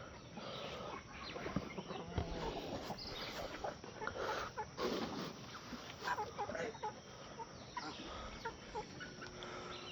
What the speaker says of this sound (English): There was one of those black and white chickens over here.